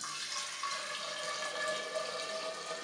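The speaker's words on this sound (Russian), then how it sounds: "Итак, заливаем сейчас сюда воду." Water pours steadily into the body of an old fire extinguisher, a continuous close splashing and hissing flow with no pauses and no talk.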